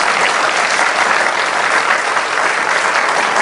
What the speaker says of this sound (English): I just want to also just give everyone a real round of applause again